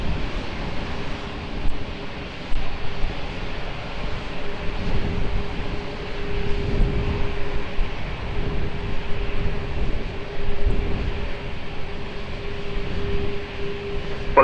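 Airplane at Lisbon Airport, a steady low engine roar with a faint sustained tone, moderately loud and continuous throughout, with no talk.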